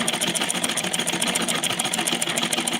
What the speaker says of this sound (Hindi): ब्लाउज सिल रहे हैं बहन